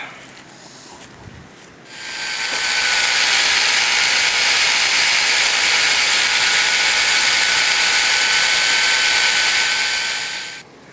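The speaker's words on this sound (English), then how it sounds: "So now I'll just go ahead and drill these holes out." A power drill spins up and runs at a steady high-pitched whine for about nine seconds while drilling holes in a vacuum pump part, then winds down, loud and close.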